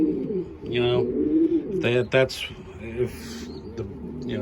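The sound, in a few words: pigeons cooing in a loft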